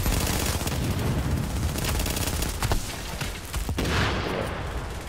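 Heavy gunfire in the shooter game Tom Clancy's The Division, with dense overlapping shots and bursts that keep up loud and close for several seconds, with a few sharper cracks standing out.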